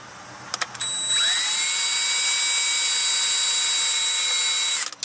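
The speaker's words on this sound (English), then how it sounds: "now I'm going to start drilling and show you how to do this" A power drill with a 13/16 bit spins up after a couple of clicks and whines at a steady high pitch while boring into a Ford center console, then stops abruptly.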